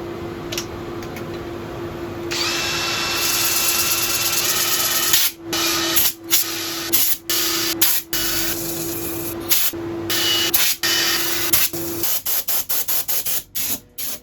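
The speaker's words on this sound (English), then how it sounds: "I'm going to start sanding." A natural-edge redwood bowl is sanded on a lathe, giving a loud, continuous whirring hiss with a steady drone that breaks off in repeated short gaps toward the end, without talk.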